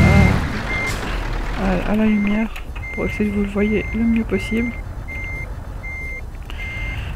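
Evenly spaced electronic reversing beeps from a truck in Euro Truck Simulator 2, steady and fairly loud over engine rumble, while someone talks over them.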